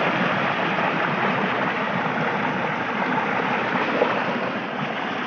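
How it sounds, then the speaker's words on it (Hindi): Water in the 9R canal at Fortabbas rushing under high pressure, a loud, continuous broadband roar that stays steady throughout with no voices over it. "ये देखें यहाँ पे जो पानी, कितनी की ज़्यादा खौफनाक आवाज़ आ रही है"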